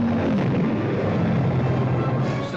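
Wartime fighter escort aircraft taking off on a 1944 Allied shuttle bombing mission, a loud, steady engine roar that holds for the whole stretch with no break and no talk.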